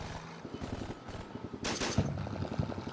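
Gunfire in the World War II game Combat Mission Battle for Normandy: rapid, steady rattling shots, with a denser and louder burst of fire near the middle of the clip.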